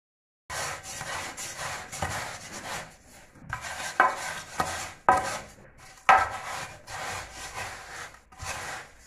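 Rough scraping and rubbing strokes as a straightedge is dragged across wet concrete to screed a subfloor, with a few sharper knocks, close by and moderately loud.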